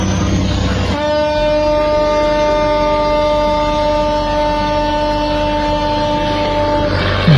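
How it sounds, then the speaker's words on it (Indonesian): A navy ship's loud, sustained horn blares steadily for about six seconds over a constant low engine rumble during a chase of a fishing boat at sea, then cuts off. "Klakson."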